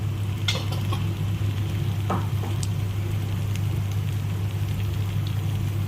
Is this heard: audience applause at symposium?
no